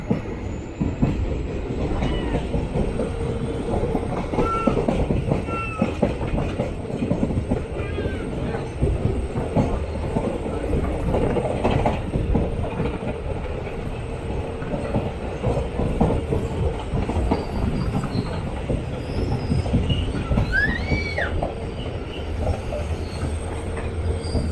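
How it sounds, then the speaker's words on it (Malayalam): The Netravati Express runs on rails in Kerala near Shoranur, with a steady rolling rumble and clatter of wheels, occasional wheel squeals, and faint voices in the background. "നേത്രാവതി എക്സ്പ്രസ് ആണ്."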